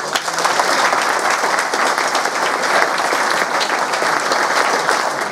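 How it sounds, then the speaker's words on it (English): Sustained audience applause at a football club's player of the year awards ceremony, many hands clapping steadily and loudly throughout with no break. "So I'd like you to give them a round of applause."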